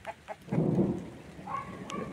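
Thunder rumbles during a rainstorm, a short low roll building and fading over about half a second, followed by a fainter rumble amid light rain and a few faint outdoor chirps.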